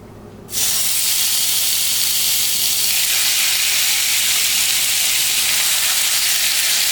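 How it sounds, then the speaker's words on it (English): Beef steak strips for fajitas hit a hot skillet with a tablespoon of olive oil, bursting into a loud, close, sustained hissing sizzle that holds steady without talk. "put in 1 tablespoon of olive oil to that hot pan. And now we want to go ahead and add in our steak."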